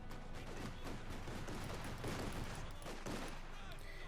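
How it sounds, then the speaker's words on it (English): Dense gunfire and fusillades from Company of Heroes 2, with troops shooting at Volksgrenadiere; rapid bursts keep overlapping without a break, and a voice talks faintly underneath. "Bit of shooting against the Volksgrenadiere."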